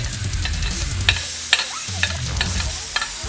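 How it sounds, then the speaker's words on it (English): Rice is stir-fried in hot canola oil into fried rice, giving a loud, close sizzle with rhythmic scraping and clacking stirring strokes about every half second. "We're going to make it a fried rice."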